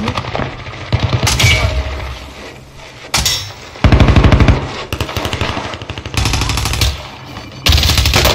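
Video game gunfire: loud automatic bursts of rapid machine-gun shots in several separate volleys, with short gaps between them and no talking.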